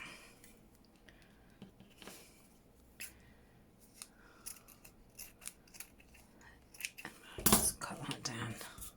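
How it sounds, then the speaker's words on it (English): Scissors snip paper a few times at close range, a quiet crisp cut here and there, ending in a louder, sharper burst of cutting and rustling. "Let's get some scissors."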